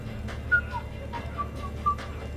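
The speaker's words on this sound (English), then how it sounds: "Are you whistling?" A character in the video game Mass Effect 3 whistles a few short, thin notes over a low engine-like hum, soft and intermittent.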